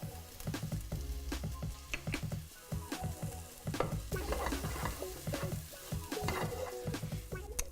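Ground turmeric, coriander and cumin sizzle steadily in a hot pan while being stirred for a lamb stew, with repeated scraping and knocking of the utensil against the pan, close and continuous with no talk.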